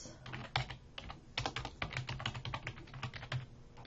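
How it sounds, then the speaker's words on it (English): Quiet, close typing on a computer keyboard: quick irregular key clicks in short flurries with brief pauses, soft and near, no talking over it. "So I'm just typing that in here."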